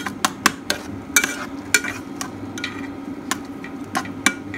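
A pot of strawberry mixture comes to a boil with irregular sharp pops and ticks over a low bubbling hiss, close and fairly quiet.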